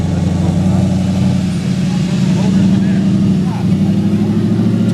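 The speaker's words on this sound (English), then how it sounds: "It's an Audi V8." An Audi V8 in an older car runs at a steady, rumbling idle nearby, with people talking over the engine.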